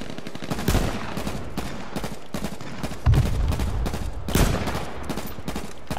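Gunfire in H1Z1 on PS4, rapid bursts of shots cracking in quick succession with a few heavier booms, loud and sharp, with no talk over them.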